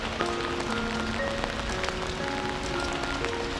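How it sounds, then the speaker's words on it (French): Steady rain pours in a soft, even hiss, with gentle piano notes ringing over it throughout. "se connecter au son de la pluie"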